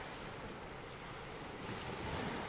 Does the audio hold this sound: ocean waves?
yes